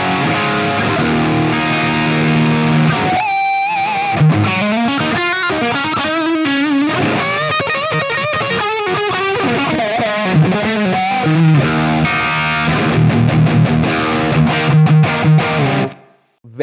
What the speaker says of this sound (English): Time to move on to the first high gain tone where things get serious